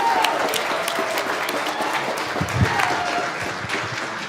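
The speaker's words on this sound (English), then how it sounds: "let's give her a round of applause and welcome her for the feature song" An audience claps for a singer being welcomed for a feature song, a dense continuous patter of applause that holds steady and fairly loud throughout.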